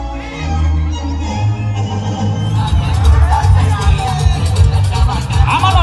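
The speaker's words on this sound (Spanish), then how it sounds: "fuerte los aplausos por ahí" A crowd cheers and applauds at a live music show, a loud, busy roar of voices and whoops over pounding bass-heavy music, with someone talking into a microphone.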